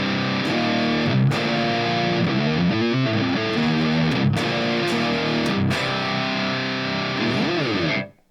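A high-gain, heavily distorted metal electric guitar tone played through a Fender Tone Master Pro, with thick chugging riffs and sustained chords that ring loudly, then cut off abruptly at the end.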